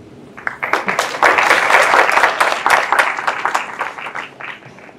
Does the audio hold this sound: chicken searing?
no